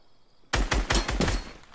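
Gunfire in the video game Fortnite, a rapid burst of several loud, close shots in quick succession, starting abruptly after a quiet moment and trailing off with reverberant decay.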